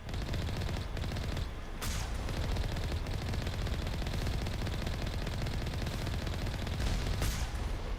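Sustained weapon fire in Mass Effect, played as a Sentinel on Asteroid X57, forms a dense continuous barrage of rapid shots with no gaps, loud throughout with brief sharper bursts.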